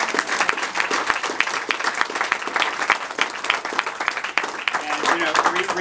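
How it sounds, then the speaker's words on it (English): A crowd claps and cheers at a campaign office opening, loud, dense applause with bright individual claps mixed into the roar, continuing throughout with a few scattered voices and calls underneath. "So let's give another round of applause"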